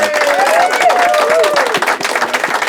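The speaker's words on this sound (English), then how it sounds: "a round of applause one more time" A crowd claps steadily in warm applause, with a few voices calling out over the clapping.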